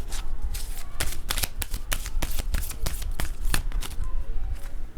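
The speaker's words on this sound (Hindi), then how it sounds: "शफलिंग को आप सभी को ही देखना है" Tarot cards are shuffled steadily and close by, a continuous run of quick riffling flicks and soft slaps with no speech.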